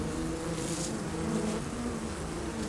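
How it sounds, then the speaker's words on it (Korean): A dense swarm of honeybees buzzes at the hive, making a loud, steady drone as the worker bees mob and attack a hornet at the entrance. "동료로부터 위험 신호를 받고 떼지어 몰려나온 일벌들이 맹공격을 퍼붓는다."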